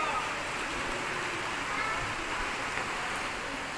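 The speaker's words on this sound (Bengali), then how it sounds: "ঝড় বৃষ্টির মধ্যে আপনাদের একটু দেখানোর চেষ্টা করলাম" Rain falls during a storm in Gazipur as a steady, even hiss of dense drops that holds at one level from start to finish, with no clear voices.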